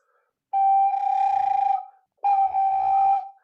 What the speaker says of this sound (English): But for flutter tonguing, it kind of sounds like this.